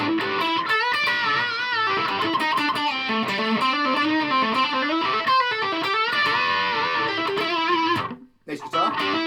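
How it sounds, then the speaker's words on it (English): A Squier Showmaster electric guitar on its humbucker pickup plays through a distortion pedal, giving thick, sustained overdriven notes and bends, loud and continuous before cutting out near the end. "But with a bit of distortion,"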